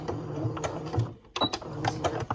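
A sewing machine back stitches a seam on a fabric pattern weight, running in short rhythmic mechanical bursts with a brief pause as it reverses, close and moderately quiet.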